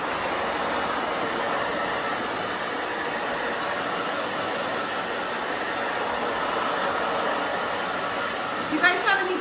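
A hair dryer blows steadily and loudly throughout while drying a short pixie haircut, with faint handling noise near the end.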